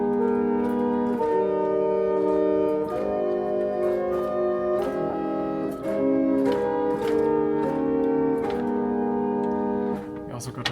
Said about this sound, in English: A viola d'amour, a viola of love.